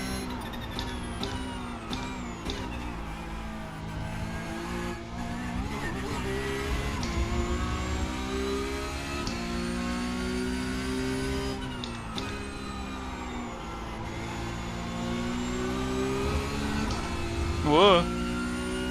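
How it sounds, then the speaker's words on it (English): A Porsche Cup race car engine in the iRacing game at Monza drones steadily and loudly throughout, its pitch sliding up and down with gear changes and deceleration, with a brief sharper peak near the end. "I know it just from the sound of the engine decelerating."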